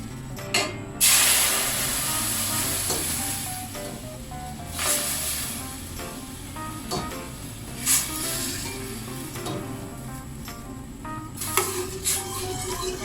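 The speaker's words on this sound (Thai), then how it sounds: "ผัดด้วยกะทิหัวกะทิ ใส่หัวกะทิไปเลยค่ะ" Thai curry paste is stir-fried in thick coconut cream, giving a bubbling hiss with spatula scrapes against the pot and occasional louder stirring bursts.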